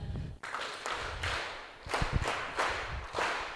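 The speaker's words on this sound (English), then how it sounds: "can we have another round of a service delivery clap for the presentation by Ms." Audience at a public service commission event giving a round of clapping after a presenter's talk, irregular claps and thuds fairly close and moderately loud, no talk over it.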